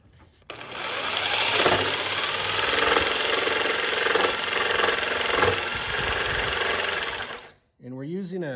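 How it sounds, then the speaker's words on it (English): A power saw fitted with a fine-tooth blade for smooth cutting saws steadily through wood, cutting from the top, during a 1948 Gillig bus bedroom remodel; one continuous loud buzzing cut runs for about seven seconds, then stops, and a brief voice follows. "we're using a fine tip blade that is for smooth cutting, and we're cutting on the top"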